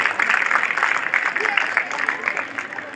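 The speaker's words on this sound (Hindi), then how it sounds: "आप सब बड़े लोग मिलकर ताली बजाएंगे भाई" Adults in an audience clap for children at a bird festival closing, a steady dense wash of applause that holds for the full stretch, mid-distance and fairly loud with some crowd murmur mixed in.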